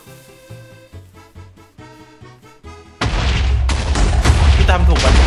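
In Minecraft, a few seconds of tonal game music give way to a sudden loud explosion that bursts in abruptly, followed by a sustained roaring rumble and debris-like crackle to the end.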